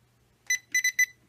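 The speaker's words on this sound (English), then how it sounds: "Right now it is on just the beep." A Deteknix XPointer dual-power wader pinpointer set to beep-only mode sounds a short electronic beep, then a quick triple burst of close, clear high-pitched tones against near silence.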